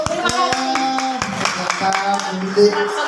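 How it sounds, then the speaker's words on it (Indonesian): Clapping hands from an audience at an Indonesian teachers' certification gathering, sharp distinct claps in an irregular rhythm over tonal background music, with voices audible underneath. "Luar biasa, tepuk tangan ya Bu."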